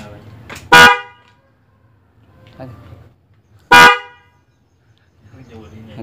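Two loud, brief blasts of a Denso dual-tone snail car horn a few seconds apart, installed with a relay set on a Toyota Agya 1.2, with faint voices talking in between.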